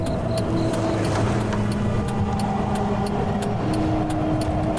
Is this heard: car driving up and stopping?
yes